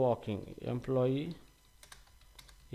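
Brief bursts of computer keyboard typing while writing Python code, soft clicks following a man's speech and then continuing quietly on their own.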